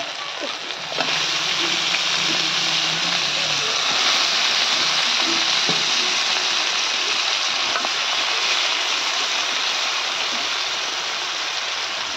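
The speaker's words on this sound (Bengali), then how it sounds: "এখন আমি মাংসটা দিয়ে দিচ্ছি।" Country chicken meat going into a pan of sautéed, well-fried spices, giving a steady, broad sizzling hiss that runs unbroken throughout at close range.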